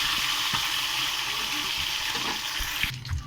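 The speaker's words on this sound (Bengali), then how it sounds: "মাছগুলো ভালো করে উল্টে পাল্টে লাল লাল করে ভেজে নিতে হবে।" Snakehead fish frying in oil in a pan, giving a steady, loud hissing sizzle with occasional clinks and stirring sounds near the end, with no voices.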